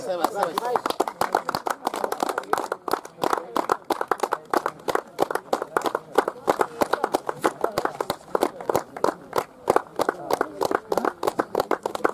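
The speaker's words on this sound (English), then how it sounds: "Big round of applause, guys." An audience applauds at a cricket cup finals presentation, with dense, steady clapping lasting throughout and voices talking over it.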